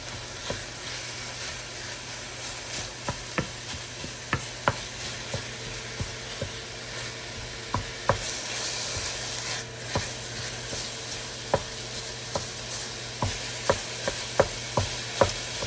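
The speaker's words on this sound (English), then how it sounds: "We're gonna get our fire up to about 225 so we can brown our meat." Meat sizzles steadily in a saucepan over a fire heated to about 225 for Cajun rice dressing, a constant crackling hiss broken by regular sharp clicks and taps of stirring or scraping, with no talk.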